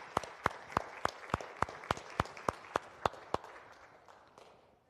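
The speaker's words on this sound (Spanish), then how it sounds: "Démosles un fuerte aplauso a nuestros niños del día de hoy." A church congregation at a Spanish-language service claps for the children, about a dozen sharp, evenly spaced claps in a steady rhythm that thin out and fade, with no speech over them.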